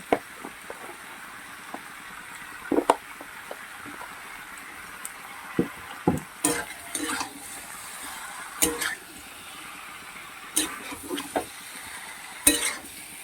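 Chicken and tomatoes stir-fried together in a pan, a soft steady sizzle under irregular scrapes and clacks of a spatula against the metal, close and fairly quiet with no talking.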